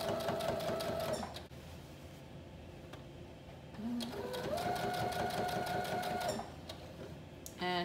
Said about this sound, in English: Okay, so we've pinned it and we're going to start sewing now.